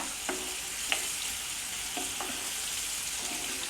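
Onions fry with a little salt in a pan for a mushroom stir-fry, giving a soft, steady sizzle broken by several scraping stirring strokes of a spoon. No one speaks.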